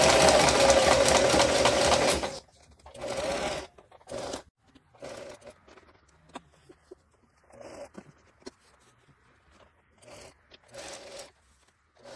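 Sewing machine stitching a straight rectangle of fabric for an inset single-flap pocket, a loud steady motor run at the start, then short intermittent bursts of stitching separated by pauses and quiet handling.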